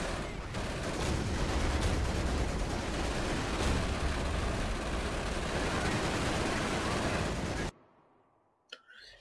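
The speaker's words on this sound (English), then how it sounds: "Fire another HE shell" A high-explosive shell fired in a World War II strategy game, a dense, loud barrage of gunfire and blasts rumbling continuously for several seconds before cutting abruptly to near silence with one small thump.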